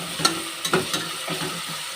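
Onion and tomato fry in a pan for a hotel-style vegetable pulao, giving a steady close sizzle broken by a few sharp scraping stirs and spatters, with no voices.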